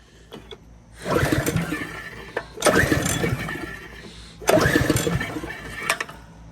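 Rototiller engine, rotten and long unused, cranked in three separate bursts that catch and sputter briefly, each fading before the next pull, nearby and fairly loud.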